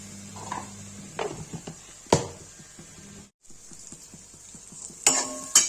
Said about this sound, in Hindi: डालेंगे नमक इसमें, ये चला देंगे।